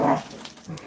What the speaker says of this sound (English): That's just the puppies playing.